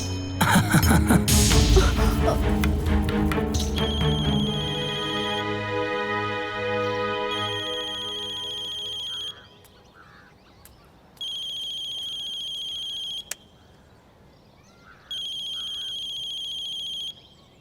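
A phone rings while a call to mother is placed at home, first under a loud burst of dramatic music, then as repeated electronic ringtone bursts with quiet gaps between them.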